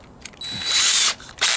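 A power drill bores into wood held in a drilling jig for a DIY Eurorack case, with short bursts of whirring close by, a sustained run, then a final burst, with no voices.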